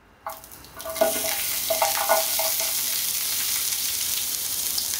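Finely sliced onions dropped into hot coconut oil in a pan for Mangalorean chicken curry, a sudden sizzle that settles into a steady loud frying hiss, with a few clanks of stirring early on and no talking.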